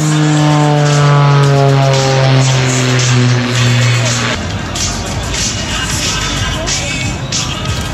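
A propeller aerobatic plane roars loudly overhead at an air show, its engine tone holding steady and then dropping into a rougher, broadband rush as it banks away.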